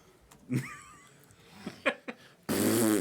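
A person imitates a loud fart with the voice, several short blurting bursts, then a sustained raspy blast at the end, fairly close.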